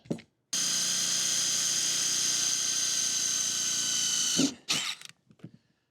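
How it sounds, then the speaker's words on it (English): A power drill whirs steadily for about four seconds at close range, drilling into an RV bench seat frame, its motor tone dipping as it bites and then stops, followed by brief rattling handling. "Then we're going to drill it."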